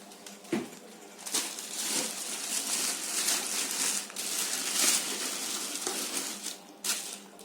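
Bluetooth multimedia speakers are pulled from crinkly thermocol packaging, producing close, continuous squeaky rubbing and crunching with a few sharper creaks and knocks.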